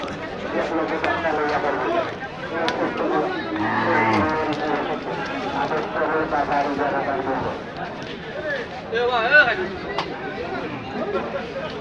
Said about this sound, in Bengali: এখানে আমরা দেখতে পাচ্ছি 3টি ক্রস জাতের ষাঁড় গরু